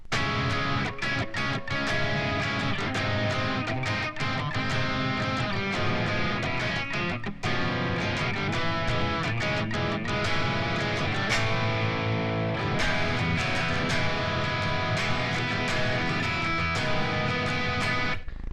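Electric guitar plays the verse of a rock song, a steady strummed and picked chord pattern with some effects, loud and continuous throughout with no talking.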